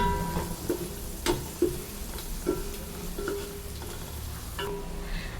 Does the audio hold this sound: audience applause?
no